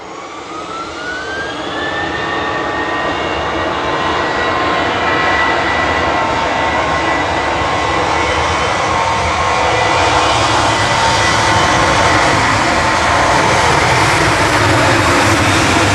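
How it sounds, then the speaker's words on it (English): SAS Airbus A320neo jet departing Manchester Airport for Copenhagen, engines spooling up with a rising whine and then holding a loud, sustained roar close by, with no talk over it. "Here goes SAS back to Copenhagen"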